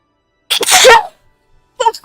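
A single loud, close sneeze bursts out near the start, followed a moment later by a brief spoken remark.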